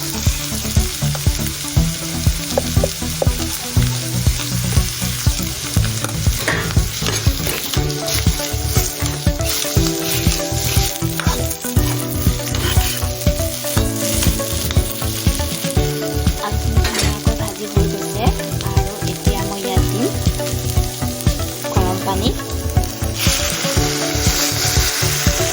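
Boiled potatoes fry with turmeric in a pan, a loud, continuous crackling sizzle broken by repeated scraping and stirring strokes throughout, with no voices.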